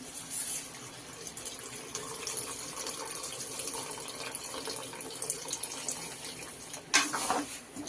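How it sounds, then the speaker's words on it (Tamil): Tamarind water pours steadily into a simmering curry of broad beans, dried fish and eggplant, making a continuous close watery gush that lasts several seconds and ends in a brief louder splash. "இப்போ நம்ம கரைச்சி வச்சிருக்கிற புளித்தண்ணியும் ஊற்றிக்கலாம்"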